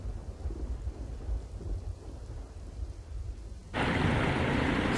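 Heavy rain during a Dwarka downpour with low rumbling thunder, then a sudden swell into a loud, dense roar of pouring rain for the last second.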